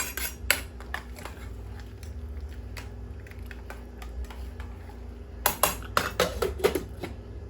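A spoon clinks and scrapes against a pot as pasta salad is stirred, with scattered light taps early on and a quicker burst of metallic knocks near the end over a low background hum.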